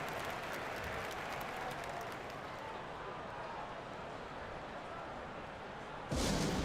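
Arena crowd at an NBA basketball game applauding and cheering during a timeout, a dense steady roar of clapping that fills the space, then a louder burst near the end.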